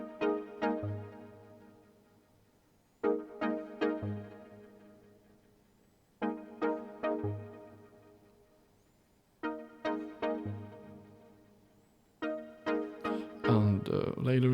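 A Roland JX8P hardware synth on an Analog Syn 2 patch plays unquantized, improvised 80s italo/synthwave chord stabs in repeating groups of three or four, each group decaying between hits, with a denser, brighter burst at the end.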